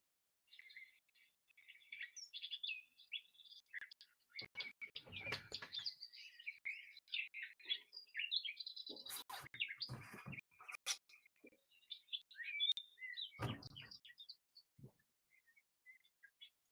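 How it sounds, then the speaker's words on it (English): A played recording of birdsong runs continuously, with dense chirping and whistled calls at low volume and a few brief thumps and knocks from handling breaking through. "Put some birds on."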